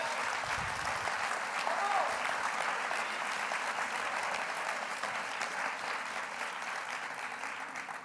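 Sustained applause from a conference audience fills the room steadily and evenly throughout, fading only slightly toward the end, with a brief murmur of voices near the start.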